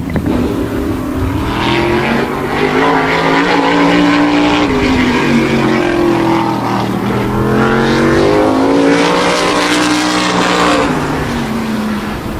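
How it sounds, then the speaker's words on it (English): A modified race car takes the green flag during qualifying at Wall Stadium, its loud engine roaring and shifting pitch as it accelerates and laps the track, steady and close throughout with no talk. "And car 38 will take the green flag for the first of 2 laps right now."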